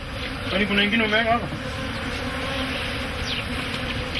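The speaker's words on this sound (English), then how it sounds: "Bees normally fly 4 kilometers from their hive to forage, so they will easily find their way back" Honey bees buzzing around hives during a honey harvest in Africa, a continuous outdoor drone with a brief louder swell of close buzzing near the start and what may be a faint voice.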